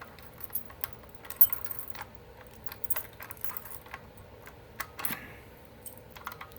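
A bunch of keys jangles and clinks in irregular, faint metallic bursts while different keys are tried in a fire alarm unit, with scattered small taps and one sharper clatter.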